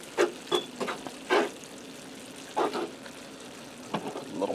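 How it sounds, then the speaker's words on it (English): Ground beef mixture sizzling in a pan as jarred salsa is stirred in, with several short scraping stir strokes over a steady low fry hiss. "I'm going to stir that into the beef mixture."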